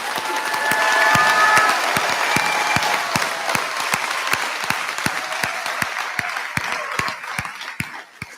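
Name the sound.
applause for graduating seniors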